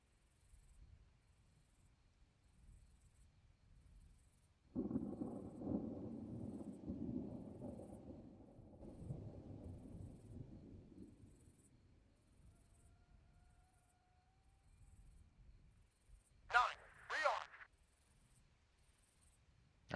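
A thunderstorm in the ARMA 3 video game, where a single low thunderclap rolls in suddenly, then fades away over several seconds against quiet background ambience, followed by a couple of sharp distant cracks.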